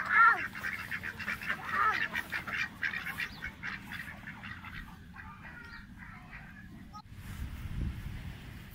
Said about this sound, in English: Lots of ducks.